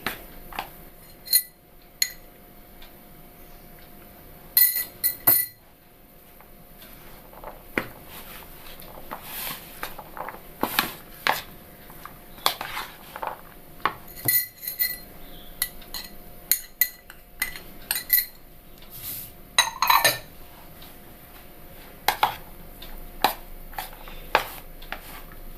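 A spoon scrapes and clinks against a bowl as sughiyan filling is mixed, making scattered irregular taps and clatters over a quiet background with no talking.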